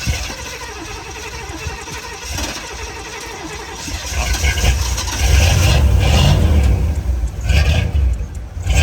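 An old car engine cranking while the gas is pumped, a rough churning crank that catches midway and rises into a loud, uneven running rumble, close by with no talking.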